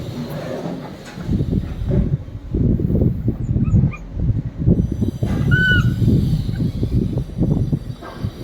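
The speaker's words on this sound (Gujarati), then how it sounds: "તો ફાઇનલી મિત્ર આપણે મળી ગયા છે ગલુડિયું, ડોગી." A puppy whimpers in a few short, high-pitched whines, set against steady scraping and shuffling noises close by.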